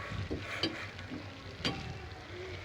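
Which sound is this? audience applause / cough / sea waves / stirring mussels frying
stirring mussels frying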